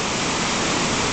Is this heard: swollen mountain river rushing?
yes